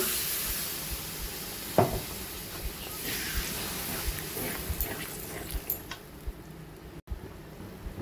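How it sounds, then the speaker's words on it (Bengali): Crab curry gravy bubbles in a pan after water is added, a steady soft simmering hiss with small pops, plus a brief clatter near the start and a few faint clicks later. "জল দিয়ে ঝোলটা ফুটে উঠেছে"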